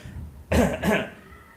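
A man gives two close, forceful coughs with a throat-clearing rasp, a brief pair of bursts in an otherwise quiet room.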